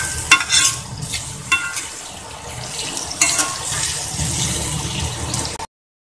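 Onion with freshly added chopped garlic frying and being stirred in a pan, a steady sizzle with a few scraping clinks of the utensil, close and continuous with no talking.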